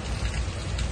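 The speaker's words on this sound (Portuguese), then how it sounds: "A chuva tá grande, ô, mas tá chovendo." Heavy rain pours down steadily, a dense hiss of drops drumming on surfaces, close and continuous with no voices.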